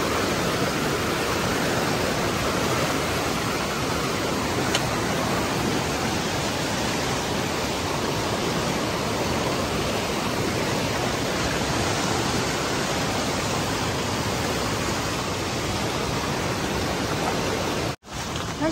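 A steady, loud roar of sudden floodwater rushing over a field of onion seedlings fills the whole stretch, continuous and unbroken, with no voices.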